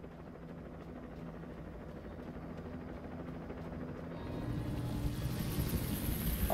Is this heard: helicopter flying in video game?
yes